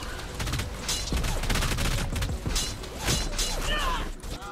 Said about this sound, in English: I was getting shot through the floor